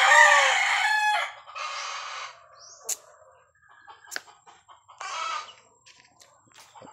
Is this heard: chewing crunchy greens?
no